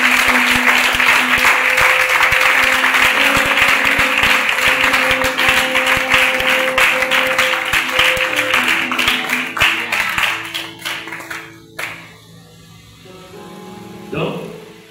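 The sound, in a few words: congregation applauding in church service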